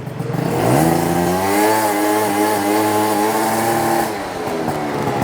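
A Yamaha BWS 50 scooter engine with a Stage6 build, running a little rich, revs loudly close by with steady harmonic drone, rising then holding, slightly uneven and burbly, easing off near the end.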